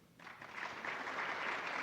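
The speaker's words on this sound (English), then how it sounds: "I think she deserves another round of applause, a loud one." Audience applause at a women in global health research event, a broad steady wash of clapping that swells in after a quiet start and holds loud and continuous.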